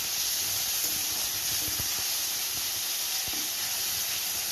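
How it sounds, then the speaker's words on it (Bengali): Grated onion frying in oil, giving a continuous loud hissing sizzle with a few faint clinks underneath, close and without talk. "পেঁয়াজটা লালচে লালচে করে ভাজা হয়ে গেছে"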